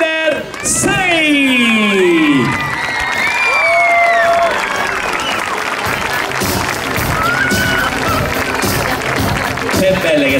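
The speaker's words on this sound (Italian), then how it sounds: "meritatissimo applauso" Loud applause and cheering from a crowd at an athletics end-of-season presentation evening honouring the Under 6 group of young athletes, a dense, steady wash of clapping and shouts with higher voices and whistle-like calls running throughout.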